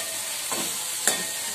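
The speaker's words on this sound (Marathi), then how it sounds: "आणि व्यवस्थित मिक्स करू।" Masala cauliflower bhaji being stirred in a pan over low flame: a soft continuous sizzle with two brief scraping strokes of a spoon, close by and quiet, no talking.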